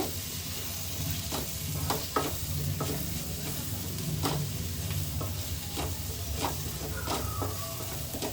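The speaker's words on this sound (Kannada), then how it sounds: "ಕರ್ಬೇ ಸೊಪ್ಪು ಹಾಕಿ ಫ್ರೈ ಮಾಡಿದ್ಮೇಲೆ" Curry leaves frying in a pan for a chicken gravy, a steady close sizzle broken by scattered crackles and pops, with occasional stirring scrapes.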